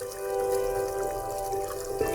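Water poured into measured rice in a cooking pot, a steady close pouring and trickling sound lasting about two seconds.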